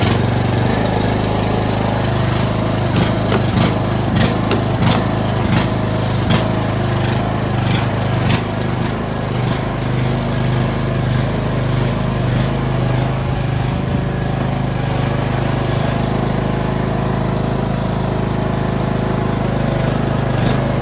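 Lawn mower engine running steadily after being cranked, a loud, close, continuous mid-pitched drone with a rapid firing rhythm, slight wavering and a few knocks early on, no talk.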